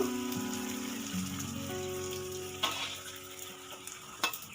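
Oil sizzles and crackles steadily as puris for pani puri deep-fry over a lowered gas flame, with a few sharp pops and clinks near the end; no talking.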